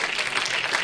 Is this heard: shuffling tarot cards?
no